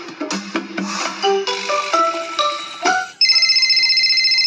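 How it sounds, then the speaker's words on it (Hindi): Musical notes play, then a phone ringtone starts: a bright, steady electronic trill repeating rapidly and fairly loud. "भैया ज्ञान का फोन आ रहा।"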